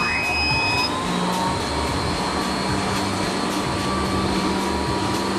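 A Trotec Quatro laser exhaust system powers on and settles into a loud, steady whooshing roar with a constant motor hum and fading high whine.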